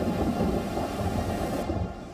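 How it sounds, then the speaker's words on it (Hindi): Thunder rumbles during a storm over the Burj Khalifa in Dubai, a loud, continuous low roar with rain-like hiss, fading slightly toward the end, no voices. "बुर्ज खलीफा के आसमान में गड़कती बिजली का खौफ"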